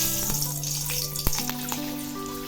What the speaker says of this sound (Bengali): এবার আমি ওই তেলে একটু রাঁধুনি ফোড়ন দিলাম আর দিচ্ছি একটা কাঁচা লঙ্কা